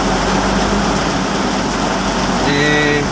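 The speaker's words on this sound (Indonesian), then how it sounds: "lumayan deras hujannya sahabat semua." Heavy rain pours steadily over Pekanbaru, a dense continuous hiss close by, with a low engine hum underneath and a brief tonal whine near the end.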